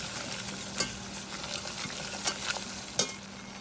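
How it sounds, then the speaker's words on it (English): Whisk stirring flour into melted butter in a pan, a soft steady scraping and faint sizzle with a few sharper clinks of the whisk against the pan. "I'm going to add 6 tablespoons of flour to this, and I'm going to quickly get a whisk and start stirring."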